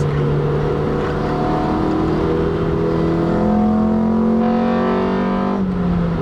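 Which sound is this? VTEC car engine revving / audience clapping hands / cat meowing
VTEC car engine revving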